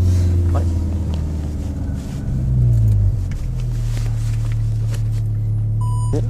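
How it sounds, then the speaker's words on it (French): Engine of a VW Golf 7 R heard from inside the car, a loud steady drone that rises in pitch, dips, then settles into a constant hum, with cabin noise throughout. "Bon, on va faire le launch control par là."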